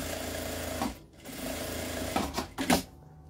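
A sewing machine stitches a zipper onto a small clutch bag, its steady motor whir running close and continuous with a brief pause and a few louder bursts near the end.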